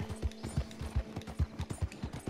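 Horse hooves clip-clop in a steady, fairly quick rhythm in Red Dead Redemption 2, close and distinct over a low background hum.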